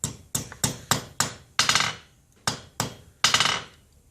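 A hammer strikes a soft silver ring on a metal surface being forged, with sharp ringing blows in an uneven rhythm, some single and some quick doubled hits, close and loud.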